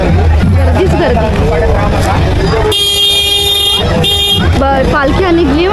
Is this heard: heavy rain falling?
no